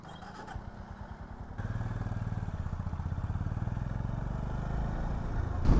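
A Honda CB 350 motorcycle on the road, its engine a steady, close thumping pulse that settles into an even rhythm and swells slightly toward the end.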